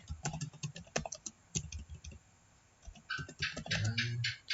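Keys clatter on a computer keyboard in quick, irregular bursts, pausing briefly, then resuming with denser patter. Close and fairly quiet.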